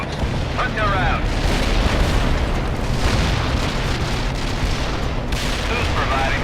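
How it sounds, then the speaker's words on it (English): Explosion in a strategy video game, a loud, sustained rumbling blast with crackling debris, overlapped by brief radio-style voices. "That's some explosion."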